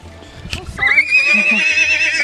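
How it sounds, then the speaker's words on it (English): A horse whinnies loudly and close by, outside a tent at a medieval castle in Germany. The long, shrill neigh holds for over a second after a short rustle at the start. "Hello, horse."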